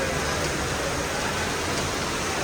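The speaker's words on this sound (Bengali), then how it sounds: "মুষলধারে বৃষ্টি হচ্ছে।" Heavy rain falls in a steady, dense, even wash of noise that holds without letup throughout.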